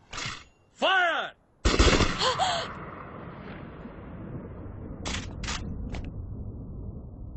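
Movie gunfire rings out as a quick burst of sharp cracks following shouted voices, then a sustained rumbling wash, with a few more isolated shots echoing later.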